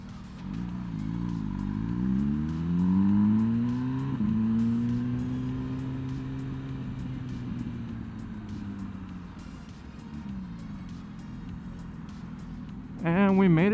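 An MV Agusta Brutale 1000 RR Assen, a 200+ horsepower motorcycle, revs and rides past. Engine tones rise and fall in sweeping pitch changes over a steady rumble, with a sharp burst of throttle at the very end.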